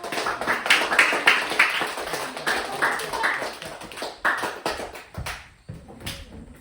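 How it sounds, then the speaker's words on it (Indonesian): A school class applauds a group presentation, with scattered, uneven hand claps that swell and then thin out into sparse single claps over several seconds, and no one speaking. "coba beri tepuk tangan untuk kelompok 1"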